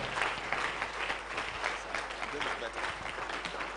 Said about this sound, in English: Oh, please clap until he settles on stage.